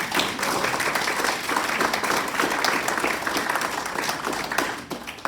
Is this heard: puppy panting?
no